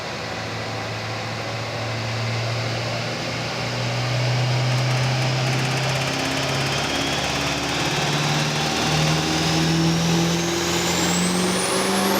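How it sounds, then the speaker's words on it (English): Diesel truck with a triple compound turbo setup, two smaller turbos feeding a larger one, revving at a Diesel Power Challenge contest in Denver: a loud sustained drone with engine tones rising steadily and a turbo whine climbing over it. "one of the 3 trucks we have at the contest running a triple compound turbo setup"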